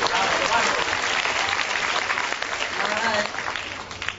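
Audience applause from a live game-show crowd, steady dense clapping filling the whole stretch with talk faintly underneath, easing slightly near the end.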